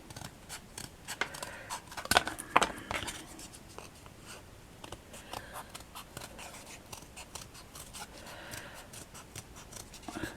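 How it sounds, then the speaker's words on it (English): Scissors cutting an oval shape out of card for a frilly vintage brooch. Close, crisp snips and rasping slides of the blades come in irregular bursts, with a few sharper louder cuts early on. "I'm going to do a little bit of card. I've got some here. And I'm just going to cut like an oval."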